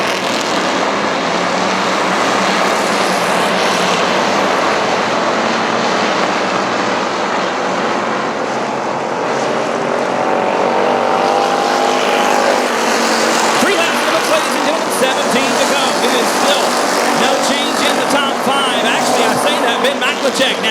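Race cars lap South Texas Speedway with a continuous loud, droning roar of engines. A track announcer talks over the racing throughout.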